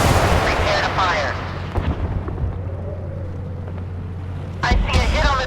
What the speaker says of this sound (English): Prepare to fire.